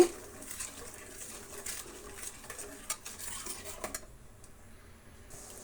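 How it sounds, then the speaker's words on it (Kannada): A spoon stirs sugar into boiling milk in a pot, giving soft irregular scraping and clinking taps against metal, quiet and close, over a low bubbling hiss. "ಚೆನ್ನಾಗಿ ಕಲಿಸ್ತಾ ಇರೋಣ ಸಕ್ಕರೆ ಕರಗಲಿ"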